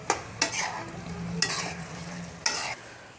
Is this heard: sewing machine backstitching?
no